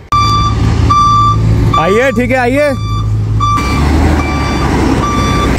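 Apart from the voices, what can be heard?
reversing beeps of a bus being driven inside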